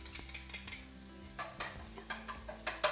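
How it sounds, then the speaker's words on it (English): Garlic frying in hot oil for pad thai, a soft sizzle under light scraping and stirring clinks of a utensil against the pan, faint and close. "So I think that's hot enough, and you just dump all the garlic in."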